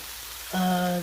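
Canned diced tomato hits a hot pan for a veggie-filled shakshuka: quiet for half a second, then a sudden, loud burst of sizzling that holds steady to the end.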